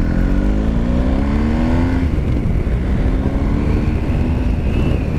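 A BMW GS motorcycle accelerates hard with a loud, close engine note, rising through the revs then dropping and climbing again over constant wind rush.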